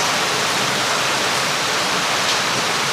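Heavy rain in Tuguegarao City during a typhoon pours down as a loud, dense, unbroken hiss of water, close and constant throughout with no voices.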